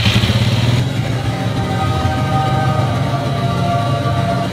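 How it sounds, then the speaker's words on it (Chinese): A Sanyang GT125 scooter engine, running after a battery replacement, idles close by with a steady, buzzing mid-pitched drone and a slight change in tone early on. "所以我现在去发动看看"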